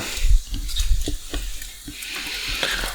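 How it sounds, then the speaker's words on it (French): A large spoon scrapes an omelette mixture out of a bowl in a series of short, close scraping and tapping strokes over a faint sizzle of frying. "J'ai raclé le bol avec une grande cuillère."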